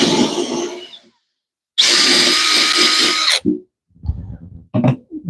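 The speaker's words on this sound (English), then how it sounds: "Try drilling those out a little bit better" A power drill whines loudly in bursts, one long run then short stuttering pulses as the bit bites into the wood of a firepit bench, up close with pauses between.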